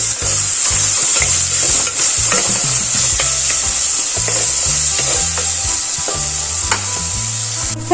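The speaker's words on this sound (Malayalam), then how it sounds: "ഇനി നമുക്ക് വലിയൊരു സവാള അരിഞ്ഞെടുത്തതാണ് അത് ചേർത്ത് കൊടുക്കും ഇത് വലിയൊരു തക്കാളി അതും കൂടെ ഇട്ട് കൊടുത്തിട്ട് ഒന്ന് ഇളക്കി കൊടുക്കാം" Chopped onion and a large tomato sizzle and fry in a hot pan while being stirred, with a constant bright hiss and repeated scraping and knocking of the utensil against the pan close up.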